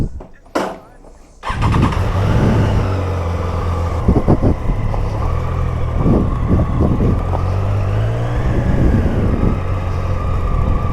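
A Triumph Daytona 660 motorcycle starts up and rides on the road, a loud, close engine note with rising and falling revs, and a voice speaks over it.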